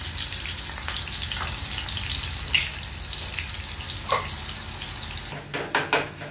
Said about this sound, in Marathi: तर हे मस्त तेलामध्ये फ्राय झालेलं आहे.